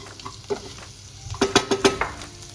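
Lima beans (pavta) roast in a pan with a soft sizzle beneath a series of quick, close spatula scrapes that cluster into a rhythmic burst toward the end.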